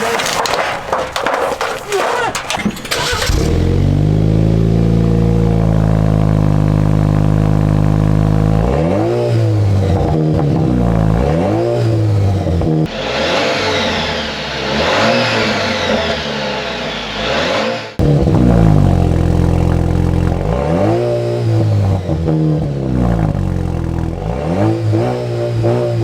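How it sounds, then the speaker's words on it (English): Jeep Wrangler 2.0 turbo engine fitted with a TurboSmart blow-off valve, loud repeated revs rising and falling in pitch, each ending in a sharp whoosh, with voices talking over parts of it. "we finally have the TurboSmart blow-off valve"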